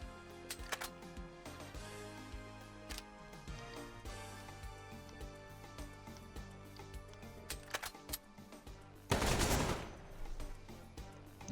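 Gunfire bursts from the Metal Slug Tactics video game, with sharp shots scattered over a busy music backdrop and a loud, dense blast of rapid fire near the end.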